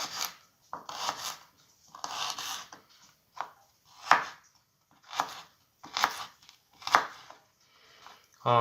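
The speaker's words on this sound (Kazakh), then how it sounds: "чеснокты міндетті түрде майда-майда қылып тураймыз" Garlic is chopped finely with a knife on a board, close by, in rhythmic bursts of quick taps separated by short pauses, about eight clusters in all, with no talking.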